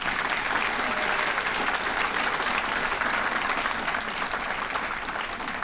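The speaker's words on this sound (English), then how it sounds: "Let's give them a round of applause." Sustained applause from an audience at an awards ceremony, a steady dense wash of clapping that holds level throughout and eases only slightly near the end.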